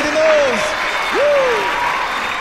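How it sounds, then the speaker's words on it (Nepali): Audience applause after a singer's grand-finale performance on Nepal Golden Idol season 7, a broad wash of steady clapping under a host's voice, with a brief tonal vocal sweep twice. "एकचोटि सबैजना मिलेर जेबिकाको लागि ताली बजाइदिनुहोस्"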